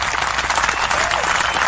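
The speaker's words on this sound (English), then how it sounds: "a round of applause to the little one who was joined" A crowd applauds a young performer at a talent show, a dense and steady clatter of many clapping hands that stays loud throughout.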